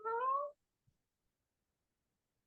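Human voice imitating a cat's meow, a single short rising call, close and clear, followed by silence.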